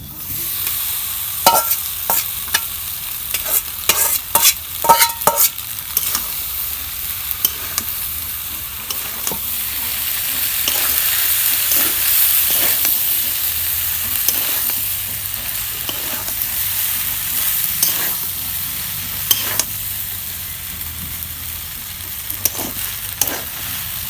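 Boiled pasta and noodles stir-fried in a pan at home, with steady sizzling and frying under repeated sharp scrapes and clinks of a spatula against the pan, close and fairly loud, no talking.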